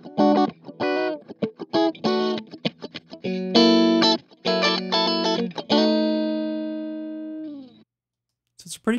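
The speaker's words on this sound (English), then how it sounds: "So it's a pretty cool, clean channel on this amp." Stratocaster electric guitar played through a Brainworx bx_rockergain 100 Orange-style amp simulator on its clean channel: picked single notes and strummed chords, loud and ringing, ending with a long sustained chord that fades out.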